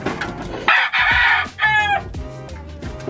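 A chicken crows a loud, full cock-a-doodle-doo, then cackles and clucks near the microphone, with a shorter crow and softer clucks following over roughly three seconds.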